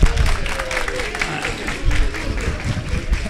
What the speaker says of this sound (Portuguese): uma salva de palmas, por favor, para o Coronel Garrone